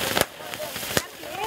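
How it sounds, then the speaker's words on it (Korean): New Year fireworks set off by a family pop and crack in several sharp, close bursts spaced through a quick moment, under a narrator speaking. "가족들은 폭죽을 터뜨리며 지난 한 해를 돌아보고 새해를 축복한다."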